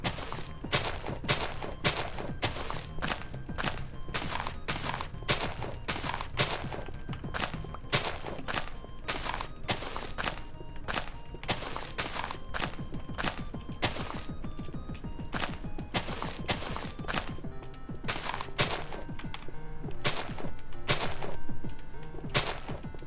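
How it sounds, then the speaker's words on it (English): TNT blasts in Minecraft go off in a rapid, irregular barrage of sharp, loud bangs for over twenty seconds, some overlapping into clusters. No voices are heard. "I'm gonna just blow up that stuff."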